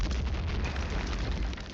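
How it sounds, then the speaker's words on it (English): An explosion in a video game goes off as a loud, dense rumbling burst that fills the whole stretch, with steady low booming and crackle throughout and no voices. "I heard an explosion."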